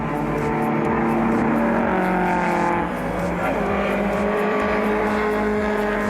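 Historic race cars, among them a Datsun GX Coupe, battle closely through the corners on a circuit, their engines droning loud and continuous with shifting pitch as the pack passes.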